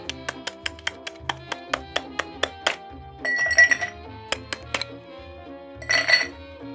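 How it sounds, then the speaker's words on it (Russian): Rapid series of sharp glassy clinks of ice cubes dropping into two mixing glasses, followed by a couple of brief rattling swirls and a few more taps. "Он пойдет в два этих смесительных стакана, как основной охлаждающий кубик льда."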